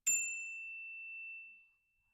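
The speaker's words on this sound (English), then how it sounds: "I'm going to chime my bell to cleanse and clear" A single struck bell chime used for spiritual cleansing rings out bright and clear, its pure tone sustaining and slowly fading over nearly two seconds, with no voices.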